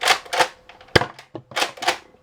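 A Nerf N-Strike Elite Delta Trooper blaster fires a single shot, a sharp close snap in the middle, surrounded by bursts of mechanical clatter and rustling handling noise.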